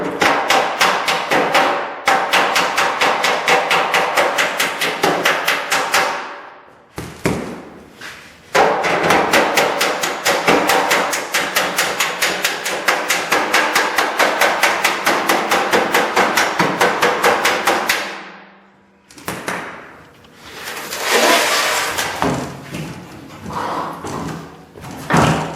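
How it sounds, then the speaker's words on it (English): Rapid, steady metallic hammering from a planishing hammer on a steel fender of a 1959 GMC Fleetside rings loudly and continuously, broken by a few short pauses, with close, sharp hits on sheet metal. "I'm just planishing this now, trying to follow the proper contours here."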